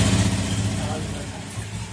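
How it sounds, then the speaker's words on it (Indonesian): A Honda Beat FI fuel-injected scooter with a power-loss fault runs close by at a steady idle-like hum, with a person talking over it. "ini akan saya coba gebet dan saya coba tes jalannya"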